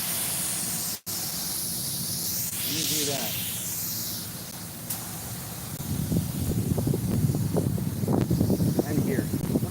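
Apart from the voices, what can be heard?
spraying in an auto shop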